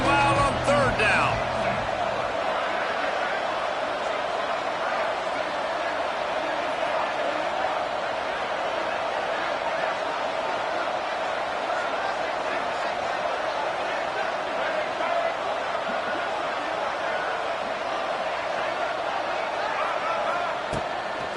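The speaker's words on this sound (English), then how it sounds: "this crowd bearing down and getting loud on third down" A stadium crowd in the College Football 25 video game roars as a steady, loud wash of noise on third down, holding nearly constant throughout with a brief burst of sound at the start.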